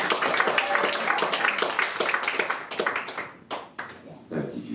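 Audience applause at a small live folk music concert, a steady patter of many hands clapping that thins out toward the end, with some talk mixed in.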